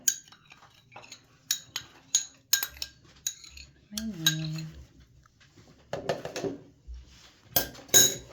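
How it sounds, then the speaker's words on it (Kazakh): Gelatin is stirred into freshly boiled water in a dish for homemade marmalade, with repeated sharp clinks and scrapes of a spoon against the dish, close and irregular, with a few brief bursts of background noise between them. "Араластырамыз."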